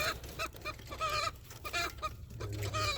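Fayoumi chickens cluck in a series of short, close, fairly quiet calls with brief gaps between them, and no one speaks.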